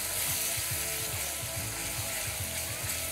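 Pancetta frying in olive oil with chopped onion and garlic, a steady close crackling sizzle with a faint rhythmic scraping of a rubber spatula stirring the pan.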